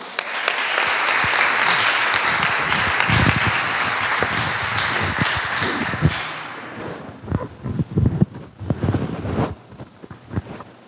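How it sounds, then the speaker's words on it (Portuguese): A Portuguese-speaking church congregation applauds the Lord before a missionary preaches. The dense, loud clapping lasts about six seconds, then thins into scattered claps and rustling. "Aplauda o Senhor aí."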